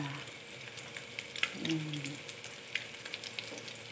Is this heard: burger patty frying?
yes